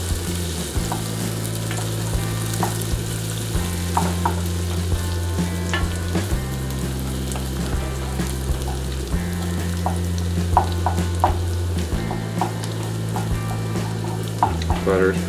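Butter melts in a pan as the start of a gravy, giving a continuous close sizzle with faint crackles, under a steady low hum, with no talk.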